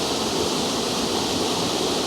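Linn Falls pours in a steady, dense rush of falling water, a close, even roar that holds without change or voices.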